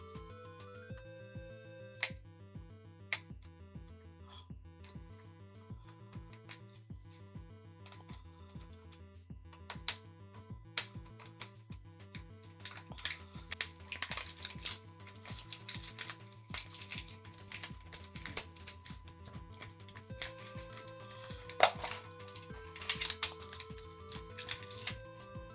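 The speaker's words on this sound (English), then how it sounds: "So let's rip it open." A Jurassic World Blokees toy egg package is torn open by hand, giving a run of crinkly, clicking plastic rips and snaps over steady background music, busiest toward the middle and end.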